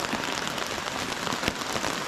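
Steady, quiet patter of rain drumming on a clear plastic roof, dense and even throughout, with a few slightly sharper drops.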